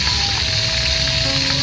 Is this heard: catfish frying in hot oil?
yes